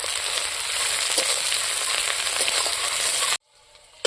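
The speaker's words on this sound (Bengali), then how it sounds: "পেঁয়াজ লঙ্কা দেখুন কত সুন্দর ভাজা হয়ে গেছে।" Chopped onion, green chili, bay leaf and black cumin frying in hot oil, a loud, even close-up sizzle with faint stirring that stops abruptly near the end.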